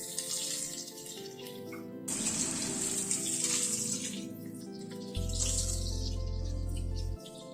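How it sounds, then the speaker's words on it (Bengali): Long potato strips fry in a pan for a Bengali mourala fish curry, giving a steady close sizzle that swells and surges with a low droning hum underneath toward the end. "আলুটাকে একটু ভেজে নিচ্ছি আগে"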